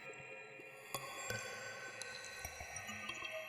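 A glassy, icy synth patch built in Harmor with delay and reverb, with thin high tones and sparkling plucked peaks that repeat as faint echoes over a sustained shimmer, alone and fairly quiet.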